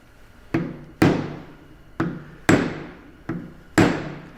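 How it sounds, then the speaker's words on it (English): Sharp metallic hammer blows on a screwdriver against an axle shaft ring out in pairs, six strikes in all, each a quick clang with a short ringing decay, close and loud. "Just gonna use my screwdriver and a big ass hammer and we'll get it off there."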